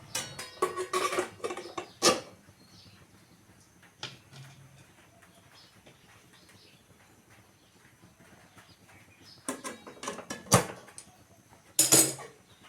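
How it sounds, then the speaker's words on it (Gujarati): Plates for dhokla set into a cooker of hot water on a kitchen stove: several sharp metallic clattering bursts, separated by quieter stretches. "મેં હંડવાના કુકરમાં પાણી ગરમ કરી દીધું છે તો આમાં પ્લેટો મૂકી દઈશું"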